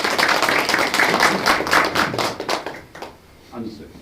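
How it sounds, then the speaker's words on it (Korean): Audience clapping at a party members' tea meeting in Dongnae-gu, Busan, a dense, fairly loud burst of many hands that thins out and fades near the end, with voices coming through as it dies down. "큰 박수 부탁드립니다."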